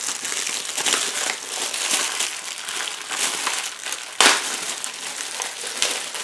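Cardboard and plastic packaging crinkles and crumples nonstop as a keyboard cover is opened close by, with one sharper snap partway through.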